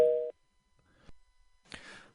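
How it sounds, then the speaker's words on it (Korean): A telephone busy tone after a call drops during a radio phone interview, one short, clear electronic beep at the start, followed by near silence and faint handling noises. "조금 전 인터뷰 도중에 전화가 끊겼습니다"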